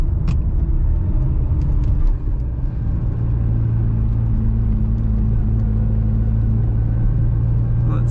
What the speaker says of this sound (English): The engine sounds pretty sweet.